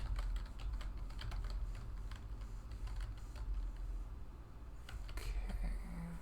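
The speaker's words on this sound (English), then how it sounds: "Type in what it's asking me." Steady close typing on a computer keyboard at a hotel front desk, a continuous patter of soft key taps with a few louder strokes near the end, no speech.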